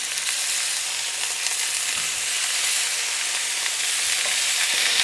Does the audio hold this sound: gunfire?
no